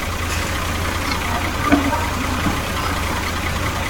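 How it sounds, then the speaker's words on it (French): A tractor engine idles and rumbles steadily on a farm, a low continuous drone at moderate distance with a brief knock or clunk midway and no talking. "Ah, le tracteur il va dans tous les sens."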